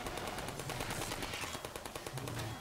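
Rapid gunfire from Half-Life 2 crackles in a dense, fast series of shots under a steady noisy game background, moderately loud and continuous with no talking.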